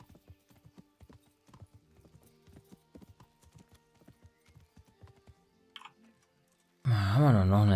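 Steady clip-clop of horse hooves trotting in the video game Kingdom Come: Deliverance, crisp and rhythmic, close by, stopping before a burst of music at the end.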